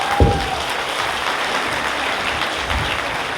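A crowd applauds loudly and continuously, steady clapping from many people throughout.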